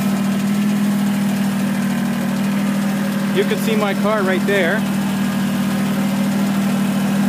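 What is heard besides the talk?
Kubota BX2380 sub-compact tractor engine running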